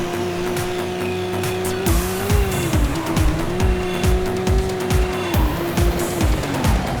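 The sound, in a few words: car racing with tire squeal, from the video game Midnight Club 2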